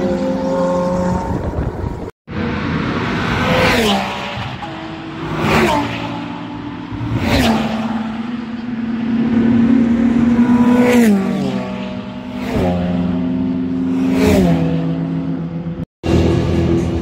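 Porsche race cars passing at the Spa-Francorchamps circuit, a string of loud engines sweeping by one after another with rising and falling whines and gear shifts, sustained roar between passes, heard from trackside.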